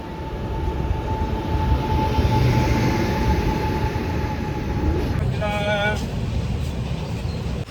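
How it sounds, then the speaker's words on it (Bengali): Padatik Express passenger train on the Kolkata–Darjeeling run near Dalkhola and Kishanganj, a steady loud rumble of rolling carriages with a brief burst of higher tonal squealing or horn-like tones near the end. "আমাদের ট্রেন।"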